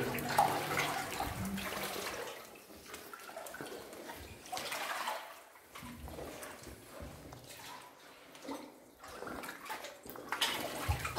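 Water being stirred up and splashing in murky shallows at an old coastal fort, a sloshing, gurgling wash that rises and falls throughout, fairly close.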